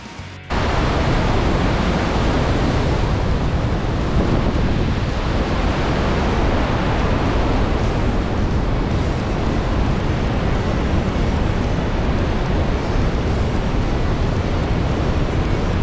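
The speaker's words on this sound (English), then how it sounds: "Getting close to the falls. Starting to be misty. All the water spray." A dense, continuous roar of a waterfall and its spray in Yosemite, loud and close, steady throughout with no voices.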